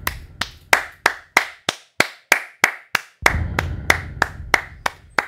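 Rhythmic clapping by one person, near and crisp, with sharp evenly spaced claps that speed up slightly at about the same loudness, no voices.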